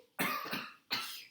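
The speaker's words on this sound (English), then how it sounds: "Take your coughing self out of the room." Two sharp, close coughs ring out in a classroom, the second following about two-thirds of a second after the first, with no talking.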